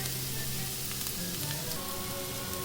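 Shrimp and garlic fry in butter in a pan, giving a steady, close, dense sizzle with small crackles and no talk over it.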